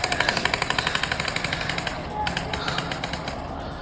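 Rapid burst of gunfire caught on a bystander's phone at night, a fast string of sharp cracks about 0.1 s apart, loud at first then thinning and fading over a few seconds with a brief pause midway.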